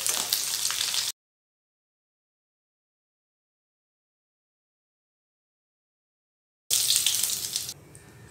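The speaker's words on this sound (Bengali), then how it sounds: "আলুর মধ্যে কালার এসে গেছে আর আলুটা ভাজাও হয়ে গেছে।" Potatoes frying in hot oil give a bright, steady sizzle in two stretches separated by a long silent gap, the second burst fading quieter near the end.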